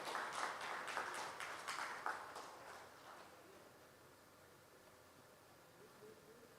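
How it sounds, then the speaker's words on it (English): Scattered clapping from a conference audience at a carbon-free energy data center summit, strongest at the start and thinning out over several seconds into quiet room tone. "can we have a huge round of applause?"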